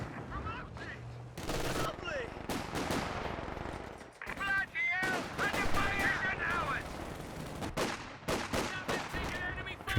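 Gunfire in a real-time strategy video game: rapid bursts and scattered shots crackle loudly in dense clusters, with brief pauses, while a commentator talks over the battle.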